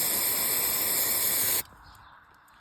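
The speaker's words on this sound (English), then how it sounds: "Spray a bit of contact cleaner, because I don't have brake cleaner on hand." Contact cleaner sprayed from an aerosol can onto the engine of a Honda XL185 motorcycle, one loud continuous hiss lasting over a second and a half, then stopping abruptly, with no talking.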